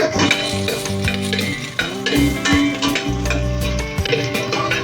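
Garlic and ginger sauté in hot oil for creamy ginataang manok with papaya, a close, steady sizzle with scraping and stirring clatter from a utensil against the pan, and faint background music.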